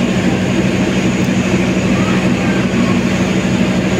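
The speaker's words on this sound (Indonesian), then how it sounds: "terlihat ini rangkaian kereta yang paling depan adalah lokomotif kemudian gerbong kereta diesel" KA Argo Semeru passenger train hauled by a diesel locomotive, a steady loud low engine drone and rumble that holds evenly throughout, with no voices.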